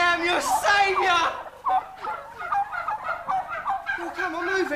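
A flock of turkeys gobbles loudly and close by in rapid, overlapping bursts, with someone shouting over the birds.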